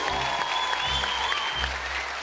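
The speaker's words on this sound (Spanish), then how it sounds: "metías un aplauso para él" Studio audience applause on a Colombian TV talk show, a steady loud wash of clapping lasting throughout with a few low thumps underneath.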